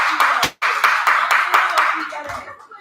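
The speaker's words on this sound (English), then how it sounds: "Clap it up, y'all. Clap, clap." A small group of people clap along in a loose rhythm, with a quick burst of claps after a brief gap, fairly close and fading slightly toward the end, with voices mixed in.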